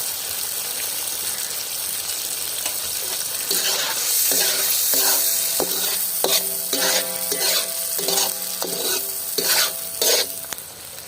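Yogurt stirred into chicken Peshawari karahi in a pan: a quiet hiss first, then loud sizzling frying with rhythmic scraping stirring strokes against the metal, close up, no talk.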